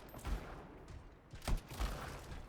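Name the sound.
gunfire from the video game Anthem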